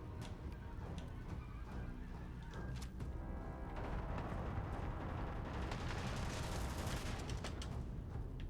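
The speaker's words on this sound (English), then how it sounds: "there's too many damn explosions going on and shit" Dense, continuous battle noise from the video game Starfield: overlapping explosions and rapid gunfire roar loudly throughout, building in intensity toward the end with a sustained bright crackle.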